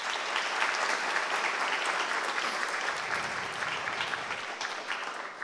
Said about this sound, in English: So let's have a round of applause for Tim, please.